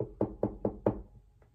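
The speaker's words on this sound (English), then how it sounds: "I hear a knock." Four crisp knocks rap out in quick, even succession on a door, followed by a fainter fifth knock after a short pause, close and fairly quiet.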